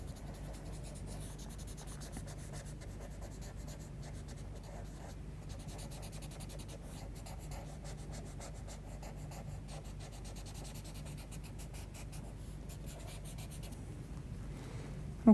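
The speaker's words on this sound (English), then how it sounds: "we'll use the paper stump and just blend that in a bit" A paper stump rubs and blends charcoal pencil across paper in soft, continuous strokes, a faint, close scratching that stays steady and quiet throughout.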